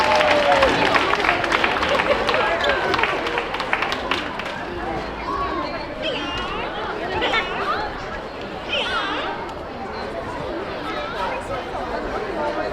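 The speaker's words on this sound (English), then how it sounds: "Come on, clap it up, make some noise for this young Chinese warrior." A crowd at a grand opening day event claps and chatters for a young performer, with sustained applause and loud babble of voices and shouts filling the space at a fairly even level.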